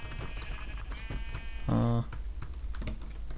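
A sheep in Minecraft gives one loud, short bleat of about a third of a second in the middle, over steady game background noise and faint clicking.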